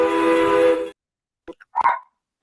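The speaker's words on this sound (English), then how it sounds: "Dogs. It was Lily's dogs." Lily's dogs giving a few short barks, distant and faint, following a louder sustained sound that cuts off abruptly, with no talk.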